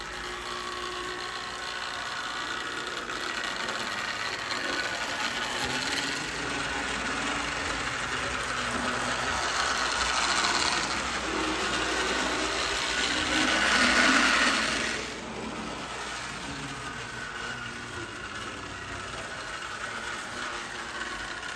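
A Marx toy GE 70-ton diesel locomotive with a headlight runs on track with a steady electric motor whir. The hum swells a little midway, then settles, and there is no talking.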